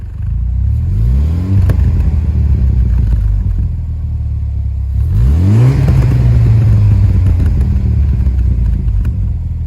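A BMW Z4 (E89) 4-cylinder turbo engine revs hard twice with a throaty sport exhaust, climbing in pitch and settling into a loud, rumbling idle between bursts.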